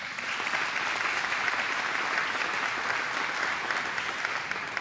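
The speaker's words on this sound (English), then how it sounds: "another round of applause for Mary." Applause from an audience at the grand opening of Factory ZERO, an American electric vehicle factory: dense, steady clapping from a large crowd that holds evenly for the whole stretch, with no voices over it.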